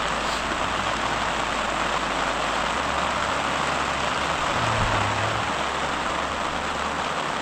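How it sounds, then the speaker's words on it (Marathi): Monsoon rain pours steadily onto a campsite tent on the flowered Rayreshwar plateau, a dense, even hiss that never lets up, with a faint low engine-like hum underneath. "आता बघूयात किती वेळ पाऊस चालतो."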